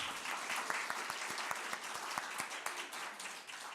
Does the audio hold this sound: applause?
yes